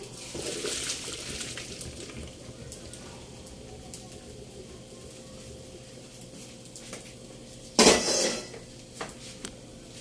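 Running water splashes and trickles steadily as cooked spaghetti is drained and rinsed in a large colander, with a brief louder burst of pouring and a clatter of metal near the end.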